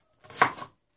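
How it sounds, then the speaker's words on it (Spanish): An onion chopped in a manual pull-cord chopper, a single short crunchy chopping burst lasting about half a second, close and alone. "Vamos a picar cebolla."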